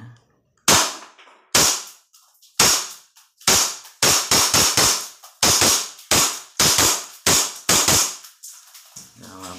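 A Hi Capa 5.1K airsoft pistol fires a long string of loud, sharp shots, single cracks at first and then quick bursts, each with a short ringing decay.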